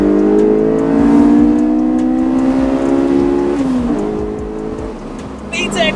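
A Honda S2000 AP1 with its F20C engine revs hard under acceleration, a loud, rising high-pitched engine wail that climbs steadily, dips briefly at a shift around the four-second mark, then pulls again, with a voice talking over it.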